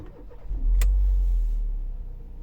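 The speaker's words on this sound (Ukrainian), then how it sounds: "Заглушив, включаю запалення, все загорілося, заводимо" A 2007 Mercedes B170 with a 1.7 petrol engine and automatic gearbox cranks briefly and fires up, settling into a close, steady idle rumble after a short starter burst.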